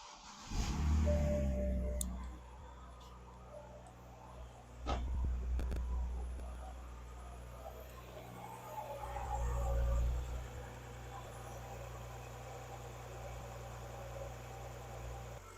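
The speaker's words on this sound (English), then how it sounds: "Now I'm going to fire the car up and show you what I'm talking about." A BMW 128i (E88, N51 engine) cranks and catches with a rumbling surge, then settles into a steady low idle, revving up briefly twice along the way.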